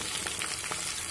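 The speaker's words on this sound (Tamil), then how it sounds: "இப்போ கோவக்காய் வந்து இந்த அளவுக்கு ஃப்ரை ஆயிடுச்சு." Ivy gourd pieces frying in a pan for a tamarind gravy give a steady, close, dense sizzle with faint crackles throughout, no voices.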